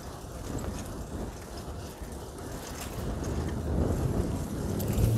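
Wind buffets the microphone in low rumbling gusts that swell toward the end, with faint higher rustle above, during a fixed-gear bike ride in Philadelphia.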